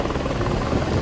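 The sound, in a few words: rescue helicopter flying over flood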